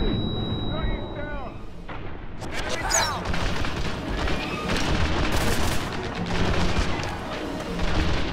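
A grenade blast in the World War II shooter Medal of Honor Airborne rings out amid continuous loud gunfire and booming battle noise, with a voice talking over the din.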